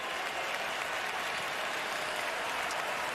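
Baseball crowd at the College World Series in Omaha, LSU vs Arkansas, keeps up a steady, distant roar of cheering and clapping that builds as the pitcher works, with no voices standing out.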